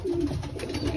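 Tiger grizzle racing pigeons in a loft during breeding season give soft, low cooing. The coos are steady and close, with a faint airy hiss behind them and no talking.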